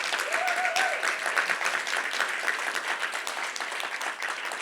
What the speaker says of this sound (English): So please, another round of applause for our help.